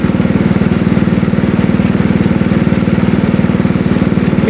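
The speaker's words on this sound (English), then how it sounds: "it seems to be idling at quite a good RPM here" Ariens snowblower engine idling up close after an idle screw adjustment, a loud steady chugging putter with an even rapid firing rhythm and no variation in speed.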